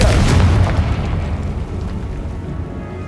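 Explosive fire spell cast in Hogwarts Legacy: a loud, near boom bursts at the start, then a rumbling, crackling tail fades slowly over the next few seconds with no talk.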